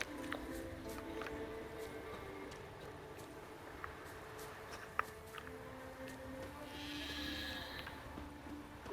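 Sheep bleating in The Witcher 3 game world while a sheep is being led along a road, with several calls scattered over a steady outdoor ambience and no talk.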